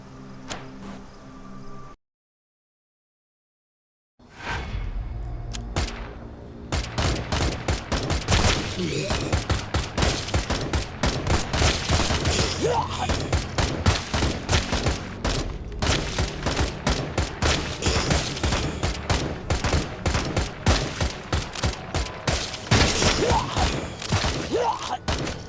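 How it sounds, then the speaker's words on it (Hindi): Characters fire guns in the zombie video game Resident Evil Survival Unit: after a brief pause, dense rapid-fire bursts rattle on loudly and continuously, layered with game effects and occasional voices. "तो ये लोग गोली तो चला रहे हैं"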